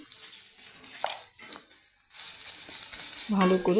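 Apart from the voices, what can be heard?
frying tempering spices in a pan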